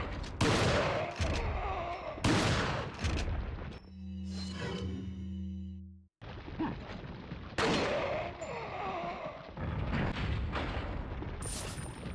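Shotgun blasts in the PS2 game Resident Evil 4: several sharp, loud, broadband booms at irregular intervals, with a stretch of humming, tonal game sound between them.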